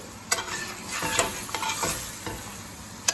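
Coriander powder and red chili powder stirred in hot oil in a pan for an egg curry, a steady low sizzle broken by several scraping spoon strokes, close and alone with no talk.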